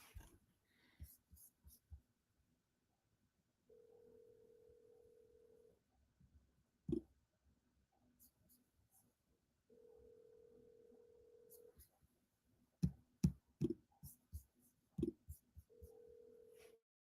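Telephone number being dialed on a phone, with a few brief keypad tones between stretches of steady hum, ending in a rapid burst of tones; faint whispery sounds occur in the gaps.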